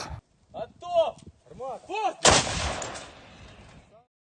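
A single loud artillery boom with a long rumbling decay, preceded by brief voices and mechanical clanks.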